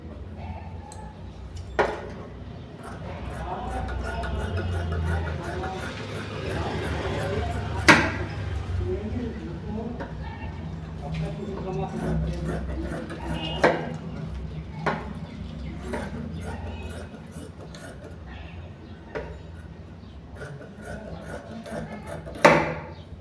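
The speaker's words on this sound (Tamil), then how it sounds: "இப்போ ஸ்லீவை கட் பண்ணிடலாம்." Scissors cut the sleeve of a fabric blouse in a long run of faint, regular snips and clicks, with a few louder cuts standing out over a low background hum.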